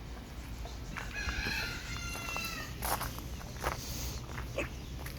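A cat meows a few times, moderately close, over a busy outdoor background with clucking chickens, ducklings and shuffling steps in a date orchard in Medina.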